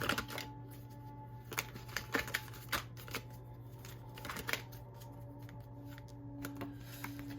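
Cards are shuffled and drawn for a reading, giving quiet, soft riffling and light snapping taps over a steady low hum.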